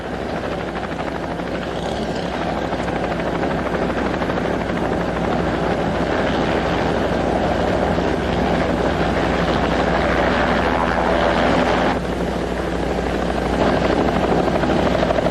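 A helicopter hovers close by at the scene of the Air Florida Flight 90 crash into the Potomac in Washington DC, a loud, steady rotor roar that continues unbroken for the whole stretch with no talk over it.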